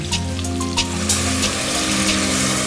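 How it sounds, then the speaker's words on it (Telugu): Water is poured into a pot of lamb curry with mint and coriander, making a loud, continuous splashing gush close by that runs the whole time with a few brief clinks. "వాటర్ పోద్దాం."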